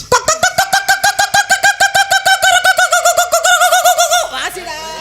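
A chicken clucks loudly and rapidly in a steady stream of repeated calls, ending in a brief squawk.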